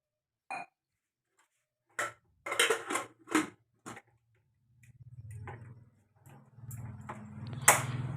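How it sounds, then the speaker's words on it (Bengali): A kitchen gas stove is lit for boiling beetroot and spinach for soup: several sharp, close igniter clicks come in quick bursts, then a low, steady rushing hum of the burner flame takes over. "গ্যাস ওভেনটা জ্বালিয়ে দেওয়া হলো।"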